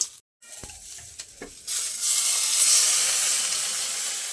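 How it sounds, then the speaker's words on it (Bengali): Water poured onto red-fried onions in a pan while making egg korma sets off a sudden loud hissing sizzle with rising steam, preceded by a few light clicks, then holds as a dense, steady seethe. "এবার এর মধ্যে জল দিয়ে দেবো আমি।"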